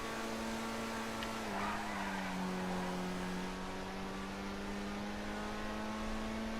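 A Progen Itali GTB in GTA Online runs at top speed, its engine holding a steady, droning high-rpm tone with a brief pitch dip partway through, loud and continuous with no talking.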